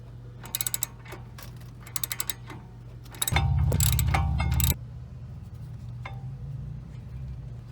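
A ratchet wrench clicks in short bursts, then spins rapidly, as bolts are backed out of the wheel hub of a 2014 Chevy Impala during wheel bearing work. The sound is close and clear, with a whirring, rattling run in the middle.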